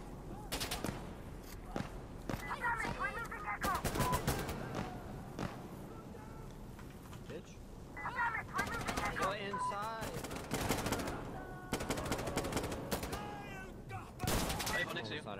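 Bursts of automatic gunfire and single shots in the tactical shooter Insurgency Sandstorm come in uneven volleys, some close and loud, others further off, with players talking over much of the firing.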